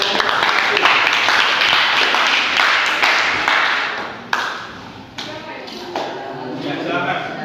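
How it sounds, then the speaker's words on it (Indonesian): A classroom group cheers on Group 1 with a burst of loud, dense clapping that fades in uneven waves as individual claps trail off, with scattered voices mixed in. "Silakan beri tepuk tangan yang meriah untuk kelompok 1."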